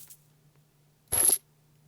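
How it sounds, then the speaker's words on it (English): A chainmail armor equip effect from the video game Caelesti, a single short metallic jingling rustle of about a quarter second, heard alone against a faint low background hum. "we have new sounds for the chainmail armor"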